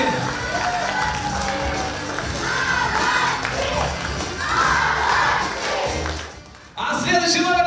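An audience at a dance concert erupts into loud cheering, shouting and clapping, with children's voices standing out above the crowd; the noise swells and then dips briefly near the end.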